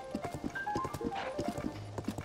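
A horse gallops in Zelda: Tears of the Kingdom, its rhythmic clip-clop hoofbeats steady and close over light game music with brief tonal notes.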